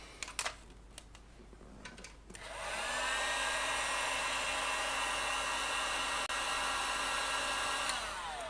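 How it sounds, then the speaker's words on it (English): A few sharp clicks come first. Then an industrial hair dryer kicks on with a loud, steady blowing roar and a faint hum, running until it cuts off. "Industrial hairdryer time again."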